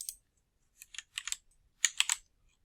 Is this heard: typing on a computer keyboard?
yes